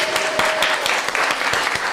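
A preschool audience claps together in a steady, dense patter of many small hands, fairly close and continuous throughout, with no voices standing out above it.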